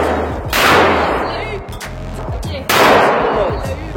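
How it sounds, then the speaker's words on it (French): A rifle fired at a target outdoors: two loud sharp reports about two seconds apart, each with a long rolling echo, with faint talk in the background. "J'ai le privilège de tirer la dernière balle."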